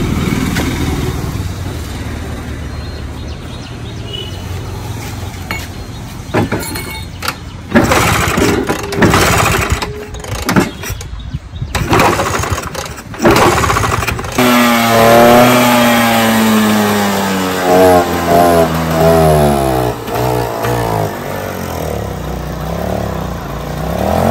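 Restored 1980s–2000s Bajaj Chetak two-stroke scooter engine running loud and close, with uneven bursts and stops early on, then settling into a steady idle that rises and falls in pitch as it revs.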